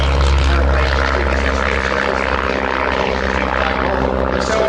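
A bright red Chipmunk propeller plane drones loudly and steadily overhead at the Shuttleworth air show, its engine roar constant and close throughout.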